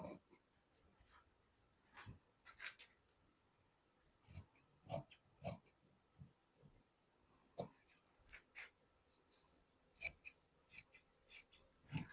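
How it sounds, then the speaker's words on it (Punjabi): Scissors snip through fabric along chalk markings while cutting out palazzo pants, giving irregular crisp snips with short pauses, close and fairly quiet, no talking. "ਜਿੱਥੋਂ ਜਿੱਥੋਂ ਅਸੀਂ ਮਾਰਕਿੰਗ ਕੀਤੀ ਹੈ ਜੀ ਉਹਦੇ ਉੱਪਰ ਉੱਪਰ ਇਹ ਤੁਸੀਂ ਕਟਿੰਗ ਕਰਨੀ ਹੈ"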